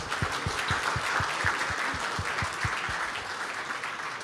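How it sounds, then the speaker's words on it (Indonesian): An audience at a foreign policy forum gives sustained applause, steady dense clapping throughout at moderate volume with no talk over it. "mari kita uh, kasih aplaus yang besar kepada Ganjar"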